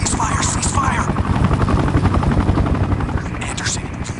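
Enemy helicopter in the video game Sniper Ghost Warrior 2, a loud, steady rotor thrum with rapid blade chop running the whole time, while voices talk over it.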